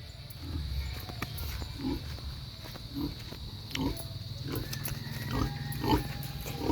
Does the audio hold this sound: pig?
yes